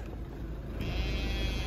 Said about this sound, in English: Why is there so many sheep?